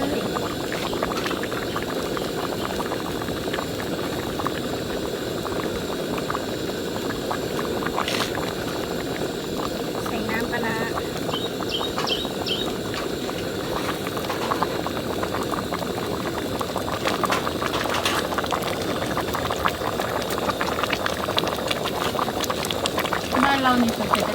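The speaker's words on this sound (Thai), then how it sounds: "น้ำเดือดแล้ว" Steady, dense bubbling and roiling of water at a rolling boil in a pot, continuous and close, with faint clinks now and then, while bamboo shoot curry is cooked.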